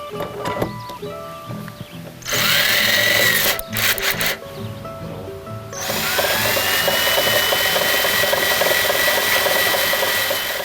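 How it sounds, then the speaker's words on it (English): A cordless drill driving a pulley system whirs in loud bursts, starting after a short pause, then running steadily with a high mechanical whine and rattling. "To power this system, all we're going to use is a cordless drill."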